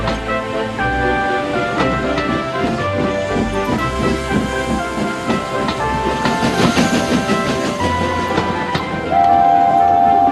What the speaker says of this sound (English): Edward cheerfully buffered up and the strange train set off.